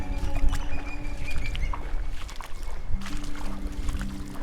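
Gusty wind blowing across an open tidal mudflat at Jumpinpin, a steady low rumble with buffeting gusts and faint watery pattering underneath, close and continuous.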